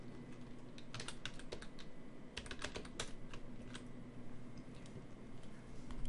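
Typing a file name on a computer keyboard, quick irregular clicks and key taps close by, fairly faint, with no talking.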